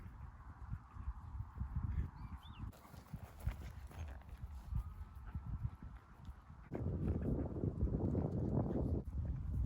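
A Fell pony's hooves clip-clop steadily at close range as it warms up before showjumping, with a brief quieter stretch midway and a denser burst of hoofbeats near the end.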